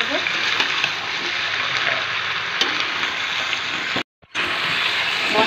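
Mutton frying with ground cumin, coriander and ginger paste in a pan, a constant hissing sizzle with faint stirring, briefly cut out near the end before resuming.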